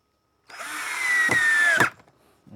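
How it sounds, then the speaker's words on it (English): A power drill drives a single screw into wood while a palette table is being built. It gives one continuous whine that lasts about a second and a half, with a rising pitch and a small clunk as it stops, close and alone. "I'm going to first drill a single screw"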